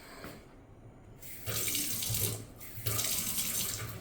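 Water runs steadily from a sink tap in a new condo in Chiang Mai, a continuous close hiss that swells louder after a quiet start, with no talking.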